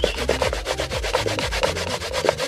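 A carrot is rubbed hard against a grater in steady, rhythmic back-and-forth strokes, close and loud, while carrot dumplings are made.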